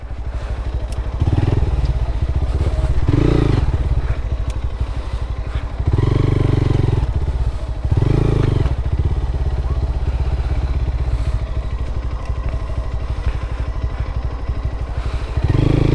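Motorbike engine labouring up a steep hill in Sukhia Valley, Lama, Alikadam, loud and close, with repeated surges of revving and rattling clatter over a steady low drone.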